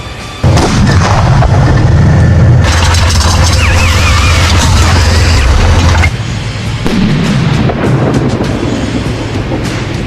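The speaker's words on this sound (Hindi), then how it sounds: "यहाँ पर रूस की फौज एंटी टैंक मिसाइल से भी हमला कर रही है।" Heavy explosions from a Russian T-90 tank and anti-tank missile attacks on Ukrainian positions in war, very loud booming blasts with deep rumbling roar that fades and rises again.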